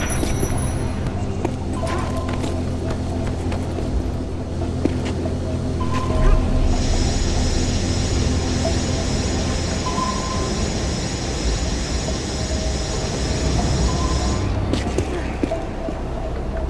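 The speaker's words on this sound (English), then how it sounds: "There's a military transport train that runs past the lab." A military transport train rolls past a lab in the Tomb Raider Legend game, a steady, loud rumble and rattle of wagons holding throughout with a bright high whine over the middle stretch and occasional clanks.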